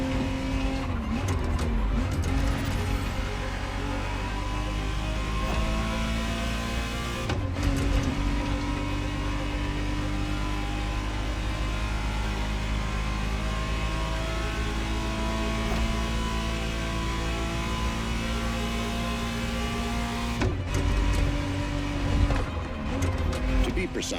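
A 1991 Ferrari Testarossa 512 TR in The Crew Motorfest drives with a steady, loud, droning engine note that holds for nearly the whole stretch, broken by two brief drops in sound.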